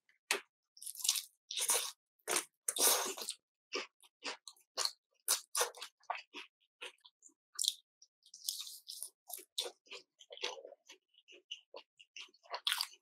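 Crunchy Korean yangnyeom fried chicken is chewed up close, with a long irregular series of crisp crunches and wet bites, sharp and distinct against near silence.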